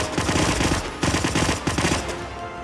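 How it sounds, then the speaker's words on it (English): Rapid bursts of automatic gunfire in the Hitman video game, loud and close, with several quick rattling volleys separated by short pauses and no talking. "He's firing at me."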